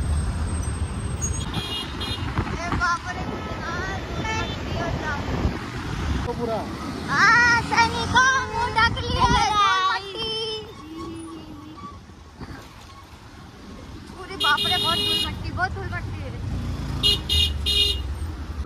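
Road traffic jam near Aarey Colony, with cars crawling and horns honking in short bursts, heard close up under continuous talking.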